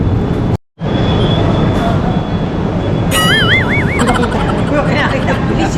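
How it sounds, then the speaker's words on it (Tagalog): A train arrives at a station near Batu Caves in Malaysia with a loud, constant rumble, a brief dropout, then warbling electronic chime tones sounding midway. "Yun yung tren, no? Tren."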